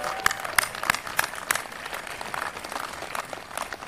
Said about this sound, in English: let's give him a great round of applause for his work